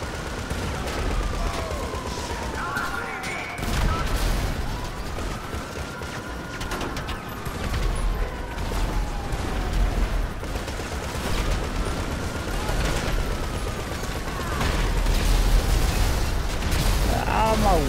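Anti-aircraft trailer in GTA 5 firing continuous rapid bursts of gunfire, loud and dense throughout with engine rumble beneath and players talking over it.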